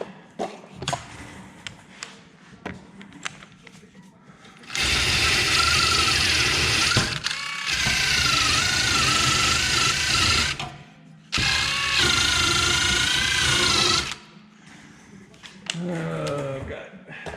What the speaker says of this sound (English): a DeWalt impact driver